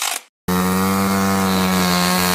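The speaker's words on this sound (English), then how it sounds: "I got this chainsaw here" A chainsaw engine runs loud and steady at a high idle, close by, with a strong buzzing drone that continues without a break after a brief silence.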